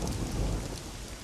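Steady rain falling during a thunderstorm, a dense hiss of drops with a low rumbling thunder underneath, short and moderately loud, without any voices.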